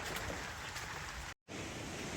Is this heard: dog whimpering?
no